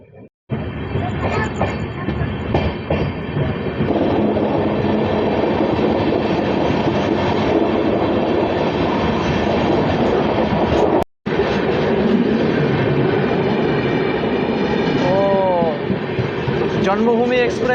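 Janmabhoomi Express train on the Visakhapatnam–Lingampalli route running past near Hyderabad, a loud continuous rumble and rattle of rolling wagons that fills the whole stretch, with a brief break midway.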